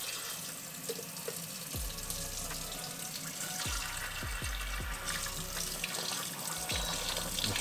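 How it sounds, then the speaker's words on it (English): Cold water runs from a tap over a hot moka pot taken off the stove, a steady rushing splash with several sharp hissing bursts and gurgles as the metal cools. "We cool it off with some cold water."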